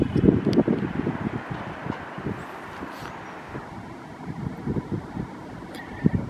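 A light, cold winter wind at the Port de l'Arsenal marina in Paris buffets the microphone with gusty low rumbling, steady throughout and louder at the start.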